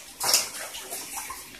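Water is poured inside a container to rinse out dust: a brief splashing gush that begins sharply, then trickles and sloshes softly for about a second.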